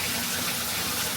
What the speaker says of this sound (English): rinse out all of that excess soap